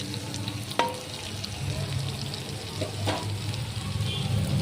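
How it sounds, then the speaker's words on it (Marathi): Amla, Indian gooseberry, sautés in a pan with a steady low sizzle, broken by a few sharp utensil clinks and scrapes of stirring, fairly close and without talk. "जवळपास दोन मिनटं आपण आवळ्याला परतून घ्यायचं आहे"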